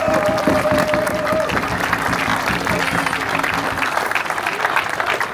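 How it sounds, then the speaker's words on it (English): A crowd at a St George's Day gathering at a London fire station breaks into a sustained round of applause, a dense, continuous wash of clapping that holds steady before easing slightly. "So a big round of applause, I think."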